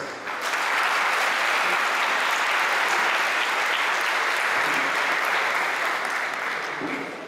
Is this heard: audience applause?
yes